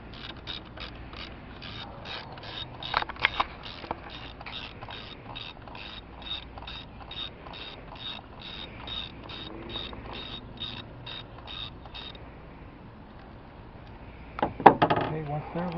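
Ratchet loosening a bolt on an intake/exhaust solenoid of a 2009 Chevrolet Malibu: steady, evenly spaced clicks for about twelve seconds, close and moderately loud, then a couple of clunks as the tool is set down, with no talking.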